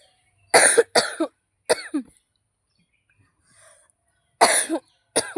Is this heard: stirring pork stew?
no